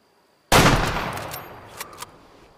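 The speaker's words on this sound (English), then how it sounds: "So we're going to take the shot from here." A single hunting rifle shot at a mature buck in the Way of the Hunter video game, a sharp loud crack followed by a long rolling echo that fades, with two faint clicks afterward.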